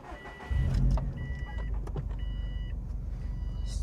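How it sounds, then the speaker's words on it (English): A Subaru car engine cranks and catches with a loud surge, then settles into a steady low idle, with a few faint electronic chimes over the rumble. "Starts right up, idles nice."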